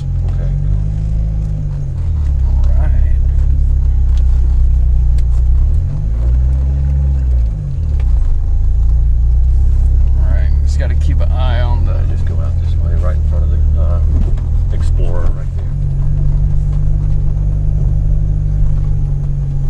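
Long-parked 1G DSM GSX project car being driven slowly, a steady low engine rumble from inside the cabin with a couple of rev swells and light knocks, while people talk over it.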